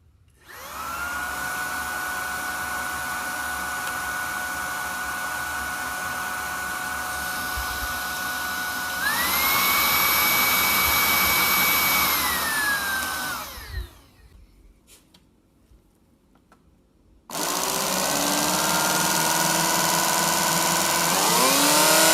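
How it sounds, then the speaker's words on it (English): A Shark Rocket Lithium Ion Pet Pro cordless stick vacuum whines steadily, steps up to a louder, higher setting, cuts off briefly, then starts again at full power. "if you want to get an idea of how this vacuum sounds in all the different modes"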